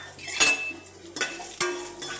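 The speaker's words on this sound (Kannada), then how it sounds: "ಇವಾಗ 100 ಗ್ರಾಂ ತೊಗರಿಬೇಳೆ ಹಾಕ್ತಾಯಿದ್ದೀನಿ" Toor dal, about 100 grams, tipped into two tablespoons of oil in a pan, giving a few sharp metallic clinks and rattles of the pan and spoon, close and fairly loud, with no talking.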